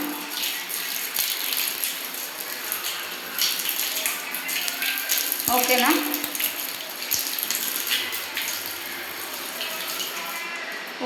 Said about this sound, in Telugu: కాళ్ళు అయితే కడుక్కుతున్నాం.